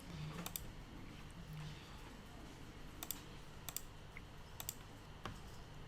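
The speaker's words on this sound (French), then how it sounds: "La barre d'espacement enfoncée seule sur le clavier." Computer keyboard keys, including the space bar, click sharply in a few scattered, isolated presses against a quiet room background, faint and close.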